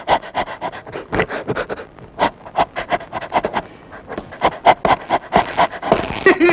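Rapid, rhythmic dog-like panting and huffing sounds, close and loud, repeat in quick bursts for several seconds, likely produced by a voice imitating a dog, with soft whimper-like tones near the end.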